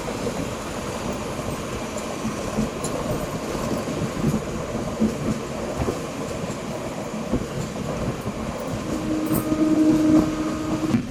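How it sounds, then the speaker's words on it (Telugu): An Amrit Bharat Express train gets moving again after a one-minute halt, a steady, close rumble of wheels and carriages with faint clicks and a slight rise in loudness toward the end, no voices. "1 నిమిషం హాల్ట్ తర్వాత మన ట్రైన్ తిరిగి బయలుదేరింది"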